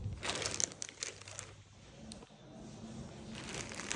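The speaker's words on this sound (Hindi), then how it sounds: "सो इसको पैक कर देती हूँ इस पॉलीथीन में।" A polythene bag crinkles and rustles while a gift is packed into it, loud bursts of crackling at first that fade into quieter handling, close up with no talk.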